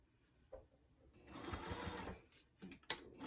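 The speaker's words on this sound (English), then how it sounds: "I love this Juki machine. So I'm just going to line this up and I'm going to kind of sew it close to the edge." A Juki sewing machine sews a handle close to the edge on an XL tote bag, heard as a quiet, close mechanical whir that rises and holds for about a second, followed by short bursts and clicks.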